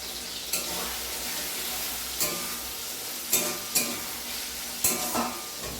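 Biryani ingredients sizzle and fry in a pan at home, with a steady crackling hiss broken by several sharp scraping stirs of a spoon against the metal, close and fairly loud, no talking.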